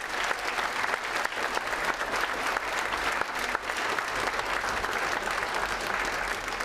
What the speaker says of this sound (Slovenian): En aplavz za Tinkaro.